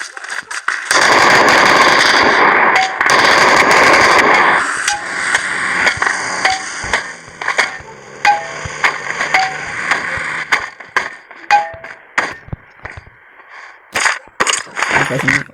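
Bursts of machine gun fire from PUBG Mobile, a dense loud stretch at first, then scattered cracks and short volleys with game effects, close and harsh.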